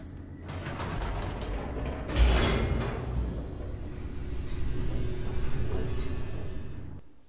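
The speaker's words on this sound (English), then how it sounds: "The elevator raced downward, plummeting towards an unknown fate." An elevator in The Stanley Parable: Ultra Deluxe descends with steady mechanical rumbling and grinding, a clunk partway through, and continuous whirring motion until it stops abruptly.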